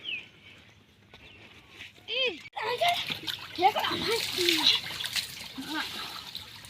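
Water splashes and gushes from a running farm water pump motor at a village field, close and steady, with children and an adult talking over it and birds faintly in the background.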